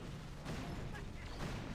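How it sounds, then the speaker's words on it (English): A boom cannon fires in a video game, with heavy, close booms in quick succession under a dense rumble while someone talks. "they are getting shot in the face by this boom cannon"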